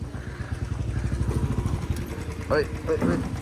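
Royal Enfield motorcycle exhaust thumping steadily at close range with a low, even pulse, overlaid by people talking throughout.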